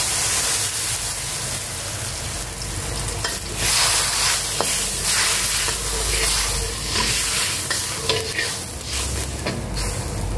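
Coconut milk thinned with a little water cooks in a pan, bubbling and hissing steadily while a utensil stirs and scrapes, close up and loud, with no one talking.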